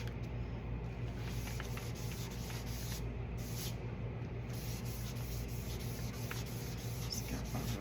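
Alcohol ink being rubbed loosely into a painting surface makes a soft, steady scrubbing hiss throughout, faint and close, with no voices.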